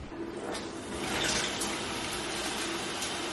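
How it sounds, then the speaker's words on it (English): Shower water runs in a steady, close, broadband hiss and spatter, with slight swells in loudness and no voices. "Okay, it's time to shower."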